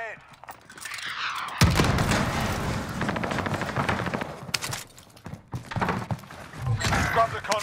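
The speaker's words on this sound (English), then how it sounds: "I'm under fire. Taking effective fire." Gunfire in Call of Duty: Modern Warfare erupts after a quiet start, dense rapid bursts of shots with a second flurry near the end, loud and close.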